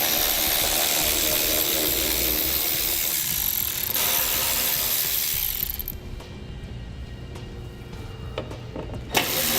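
A power driver with a T30 Torx bit backs out screws along the bottom of a 2016 Ram ProMaster, a loud continuous whirring buzz that cuts off, then quieter clicks and ratcheting handling noises.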